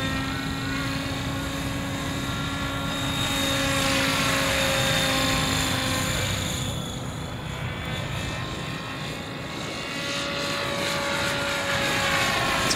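A Tron 7.0 Dnamic RC helicopter flies at low head speed with a steady rotor whir and a high motor whine that swell and fade as it moves around nearby, fairly loud and continuous, with no talking.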